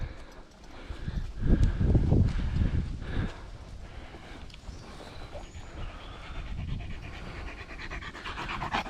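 A dog panting hard at close range in quick, rhythmic breaths, with scuffing movement and footstep-like sounds around it during an outdoor outing.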